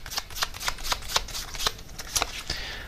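Tarot cards are shuffled and drawn from the deck, rapid close riffling and flicking in a quick, uneven patter that continues without pause and with no talk.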